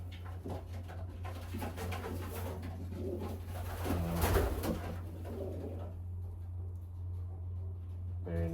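A pigeon coos nearby in a series of soft, low, rolling calls over a steady hum, with faint shuffling and some background voices.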